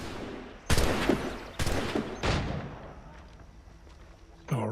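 Guns firing in the video game Assassin's Creed III: three sharp, separate shots spaced about a second apart, each ringing out, followed by a short mechanical clatter at the end.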